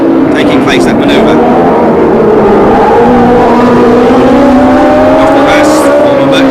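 Formula 1 cars from 1976 at the United States Grand Prix West street circuit, engines rising and falling as they brake into a hairpin and accelerate away, loud and close beneath continuous race commentary.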